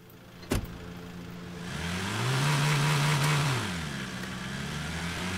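A car engine in the video game Drive Beyond Horizons revs up to a steady high drone, holds, then eases back down, close and loud, with a sharp click near the start.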